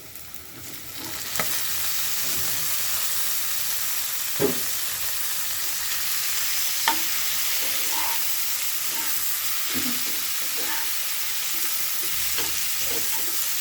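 Bottle gourd peels dropped into a pan of lightly fried onion crackle and sizzle steadily, close up, with a few sharp stirring knocks and scrapes of the spatula scattered through.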